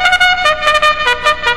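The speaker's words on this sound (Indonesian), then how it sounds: "Ya, itu adalah suara" A bright, brassy trumpet plays a quick series of short, detached notes at a lively pace, loud and alone.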